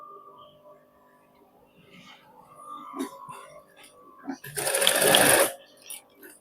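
A sewing machine stitches a back pocket on a garment from the inside, its motor whirring in short runs and then a loud sustained burst near the end, with faint background noise between runs.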